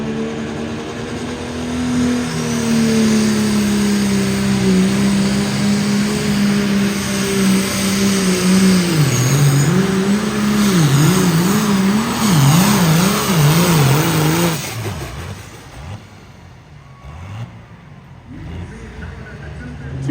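Engine of the pulling truck Desperado roaring at a county fair truck and tractor pull, a loud sustained drone whose pitch climbs and wobbles as it revs, then drops off near the end, with an announcer talking over it.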